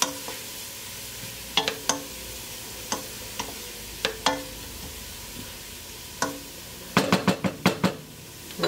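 Chopped vegetables sweat in oil in a soup pot with a soft, steady sizzle, while a spoon stirs with scattered scrapes and knocks against the pot that bunch into a quick flurry near the end.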